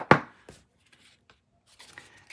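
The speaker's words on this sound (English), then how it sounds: "we're going to first stamp in Versamark" A rubber stamp inked with Versamark is pressed onto paper in one sharp, close tap, followed by a softer knock and faint rustling handling sounds.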